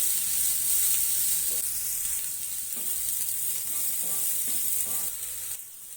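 Radish pods frying in a pan for a North Karnataka-style palya, a steady close sizzle with occasional stirring scrapes throughout.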